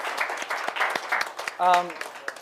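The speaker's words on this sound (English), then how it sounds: "everybody, round of applause for no methanol" Audience applause at an Earth celebration event, a steady moderate clatter of clapping heard somewhat distant, with a brief voice rising over it.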